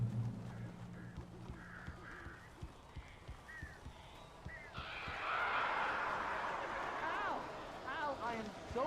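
Crows caw repeatedly in the horror video game Alan Wake, harsh calls rising over a busy rustling game soundscape, with game dialogue and other noises underneath.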